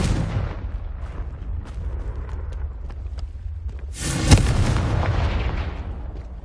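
A Confringo blast spell exploding in Hogwarts Legacy, one sharp booming burst past the middle that rolls into a crackling, fading rumble, with low ambient drone before it.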